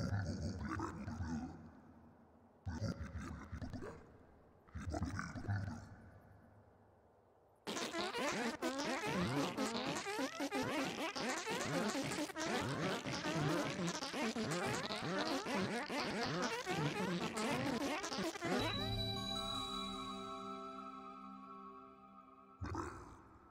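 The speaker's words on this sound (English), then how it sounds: "And then I got the fart sounds." Fart sound effects from the game files of Trombone Champ, a loud close series of short blasts followed by one long raspy sputter and a sustained buzzing tone, with no speech over them.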